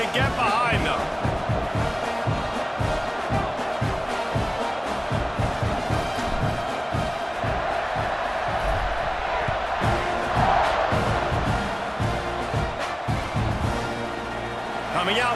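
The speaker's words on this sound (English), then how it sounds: "They're set to kick it off, and this crowd now ready to get behind them." Stadium crowd in the College Football 26 video game roars and cheers steadily before a kickoff, a dense sustained wall of noise with whoops and yells while a play-by-play commentator talks over it.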